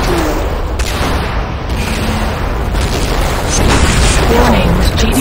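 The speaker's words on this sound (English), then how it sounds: "GDI unit destroyed." An explosion from a destroyed unit in the game Renegade booms loudly, followed by a dense rumbling crackle of gunfire and blasts that stays loud throughout.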